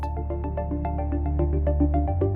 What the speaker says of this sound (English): The heating process is completed once you hear the continuous beep.